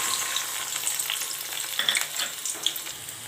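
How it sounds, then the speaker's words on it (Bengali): Sliced onions hitting already hot oil on a stove, a bright crackling fry with sharp pops and spits over a steady hiss, close and fairly loud. "প্রথমে আমি চুলায় তেল দিয়েছি, তেলটা আমার অলরেডি গরম হয়ে গেছে। এখন আমি পেঁয়াজ দিয়ে দিব।"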